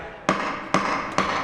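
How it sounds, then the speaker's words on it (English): Three sharp wooden knocks at a steady pace, like a gavel striking a block, each ringing briefly over a low background hum. "This is the sound of a gavel."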